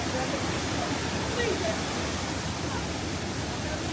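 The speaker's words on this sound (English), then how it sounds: "There's loads of spray coming off of the waterfall down there." Waterfall at Devil's Bridge in the Vale of Rheidol, a steady broadband roar of falling water heard from a distance, constant and unbroken throughout.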